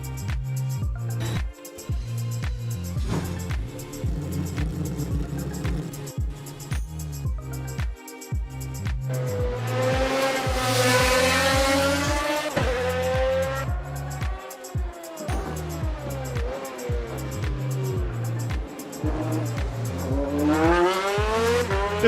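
A historic race car in an Assetto Corsa replay at the Long Beach street circuit: loud, rising and falling engine notes that change pitch through gear shifts, with tire squeal through corners and no talk over it.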